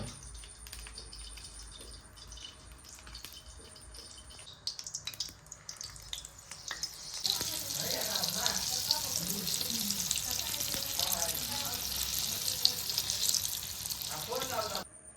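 Papad-coated paneer fingers frying in moderately hot oil in a home kitchen: a steady, close crackling sizzle that swells and grows busier partway through, with softer watery hiss and faint background noise before it.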